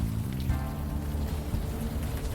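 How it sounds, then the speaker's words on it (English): Steady rain falls across a scene in the adventure video game Unavowed, a soft, even patter heard faintly and alone, without any voices. "Still raining."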